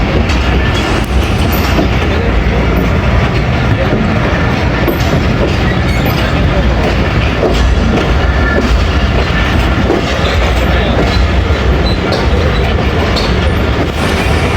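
Rehman Baba Express passenger train running on rails between Rawalpindi and Faisalabad, a loud continuous rumble of wheels with steady clickety-clack, heard from inside the moving coach without let-up.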